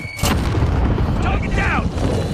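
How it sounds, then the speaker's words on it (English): A grenade goes off in a video game with a loud, close, booming blast and a long rumbling roar, and a voice speaks over it. "Grenade out!"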